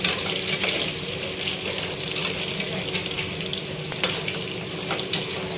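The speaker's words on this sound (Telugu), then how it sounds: "ఎండుమిర్చి కరివేపాకు ఇలా వేయించుకోవాలి" Steady, close sizzling and crackling of dry red chilies and curry leaves frying in hot oil, continuous throughout with a few faint clinks.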